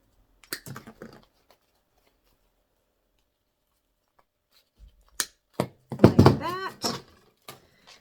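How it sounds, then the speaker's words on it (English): Artificial berry and leaf sections snap off a plastic stem in a few sharp clicks and pops, with a short burst near the start and a denser cluster later, in a quiet room with a voice speaking briefly. "We're just going to pop those sections off. I'm going to cut these berries off so I can have the leaves."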